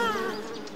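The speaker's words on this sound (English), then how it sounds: "Take this, you stupid bees!" A cartoon bee swarm gives a short, loud, close burst of buzzing with a steady wavering drone, heard alone without talk.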